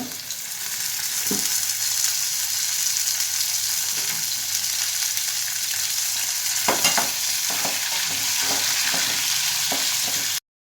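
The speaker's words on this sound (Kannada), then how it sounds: "ಇದಿಷ್ಟು ಒಂದು ಸ್ಪೂನ್ ಎಣ್ಣೆ ಹಾಕ್ಕೊಂಡು ಚೆನ್ನಾಗಿ ಫ್ರೈ ಮಾಡ್ಕೊಳ್ಳೋಣ." Ingredients fry in a spoonful of oil, a loud, steady sizzle that fills the whole stretch, with light spatula scrapes in the second half before it cuts off abruptly.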